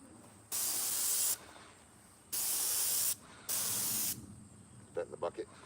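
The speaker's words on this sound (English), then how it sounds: "So I come right through" A paint sprayer applies Emerald exterior finish to the walls of a wooden shed, with three long, steady bursts of loud hiss separated by pauses, followed by a few quick knocks.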